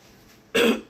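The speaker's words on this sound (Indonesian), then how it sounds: "aduh agak batuk" A single short throat-clearing cough from a person indoors at a resort in Ubud, sharp and close after a quiet moment.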